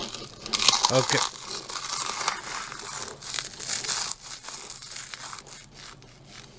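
Fried pork rinds are crushed into powder, giving a dense, continuous crinkling crunch with crackling peaks up close. A voice speaks briefly over the noise.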